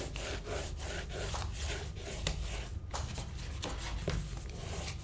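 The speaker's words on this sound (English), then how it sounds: "now I'm going to get my candle, wherever it is. I'm going to rub this over the side here" Wax candle rubbed back and forth along the side of a sheet of paper in a landscape art piece, producing a steady dry rasping scrape in repeated close strokes with no talking.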